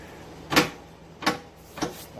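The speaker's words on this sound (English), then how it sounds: "open the door" The sheet-metal door on a Sheldon lathe's under-drive cabinet being worked open, three separate clunks and rattles at close range, spaced roughly evenly apart, with a quiet background between them.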